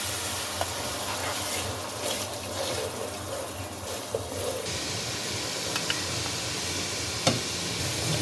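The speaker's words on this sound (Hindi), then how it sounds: "अब दही को इसमें भूनें मसाले के अंदर" Yogurt frying in a spiced masala for fish curry gives a steady, low sizzle and bubbling that runs unbroken, with a few faint clicks of stirring on top and no voices.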